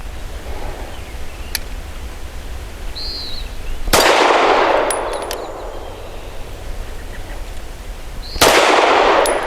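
Two sharp metallic impacts about four seconds apart, each a loud crack with a ringing tail, from a Steyr M9-A2 pistol firing at steel targets outdoors, with a faint steady background hiss between shots.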